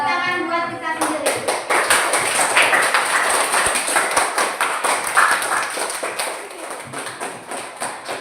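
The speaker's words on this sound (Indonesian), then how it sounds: "Kita tepuk tangan buat kita sendiri." A classroom of schoolchildren claps together in a rapid, rhythmic burst of many small hand slaps, fairly loud and close, fading slightly toward the end, with a voice speaking just before the applause starts.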